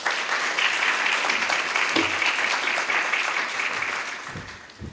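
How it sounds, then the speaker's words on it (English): Applause for the MC at a fall internship event, a full, steady round of clapping from the audience that thins toward the end and finishes with a couple of scattered claps. "Let's give a round of applause to Deaver, Traywick, Senior Director of Academic Success."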